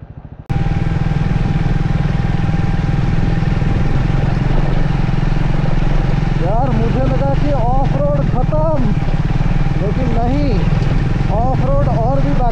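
A Triumph Scrambler 400X rides off-road in third gear along a rough, muddy mountain road, its engine droning loud and steady throughout. A voice talks over it in the second half.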